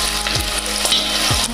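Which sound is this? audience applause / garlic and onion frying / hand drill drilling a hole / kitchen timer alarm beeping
garlic and onion frying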